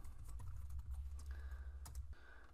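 Someone types a command on a computer keyboard: a quick, faint, uneven run of close key clicks over a low background hum, with no voices.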